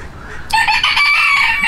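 A rosecomb chicken rooster crows loudly and close by in a single drawn-out call that begins sharply and holds its strained, strident tone to the end.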